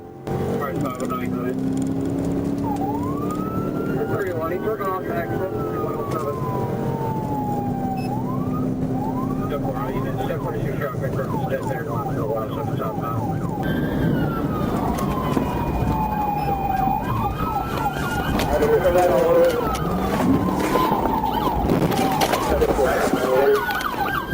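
Police car sirens wail and yelp continuously over road noise during a pursuit of a Charger, sweeping up and down in pitch, with voices talking beneath them.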